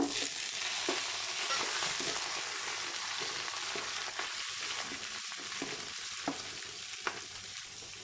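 Green chillies fry in hot oil with cumin, pepper and fennel for a North Indian style masala biryani, giving a dense, steady sizzle close by with occasional stirring clicks and scrapes.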